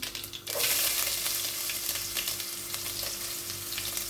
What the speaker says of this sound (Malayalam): കുറച്ച് ഉലുവ ഇടുന്നുണ്ട്.